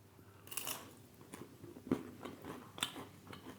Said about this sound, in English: there is crunch there, but I think a lot of it is coming from the actual toasted cheese and not the crisp